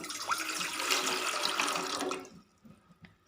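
Water pours steadily into a tea pot on the stove for ginger tea, a close splashing stream lasting about two seconds before stopping, followed by a few faint drips and clinks.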